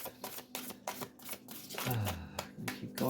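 A deck of rune reading cards is shuffled by hand, giving a quick series of riffling, flicking bursts at close range. The shuffling runs steadily for about three seconds.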